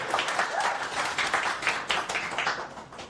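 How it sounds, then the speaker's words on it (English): A meetup audience applauds Dan as he takes the floor, a dense, fairly loud patter of many hands clapping that stays steady and close throughout the few seconds. "Round of applause for Dan."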